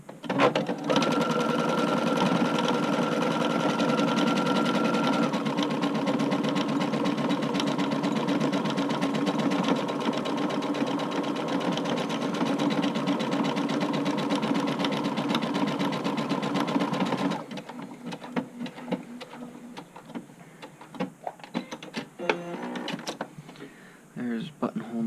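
A sewing machine stitches a buttonhole on an upcycled button-up shirt, running as a steady, loud close-up whir for about seventeen seconds before stopping, followed by quieter handling clicks and rustles.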